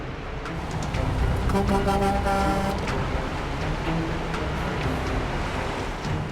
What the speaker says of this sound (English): Sounds like there's a truck coming. I hear a semi.